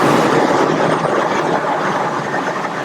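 A Dremel grinder spinning at 5,000 to 10,000 RPM for manual deburring gives a loud, steady, broadband whir that runs unbroken, close up, with no talk over it.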